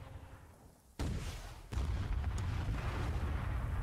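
Tank cannon fire in the Call To Arms video game, two sharp heavy booms about a second apart, each followed by a long loud rumbling roar that fills the rest of the moment.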